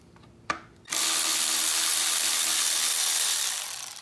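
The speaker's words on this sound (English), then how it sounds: "for the studs, you can use these inverted Torx sockets if you have them" A power tool spins an inverted Torx socket to remove intake manifold studs on a 2010-2015 Prius, with a short click and then a loud, steady whirring drone that runs for about three seconds before easing off.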